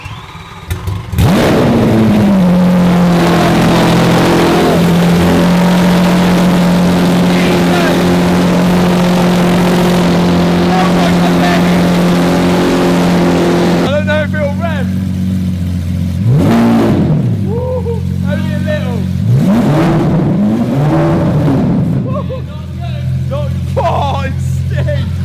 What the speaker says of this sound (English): we want to see what it sounds like with no exhaust on at all, V12 screaming out the back